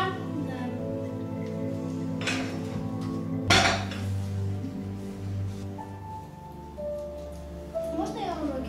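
Dishes, pots and cutlery being washed in a home kitchen, with clinks, clatters and one sharp knock under ongoing talking.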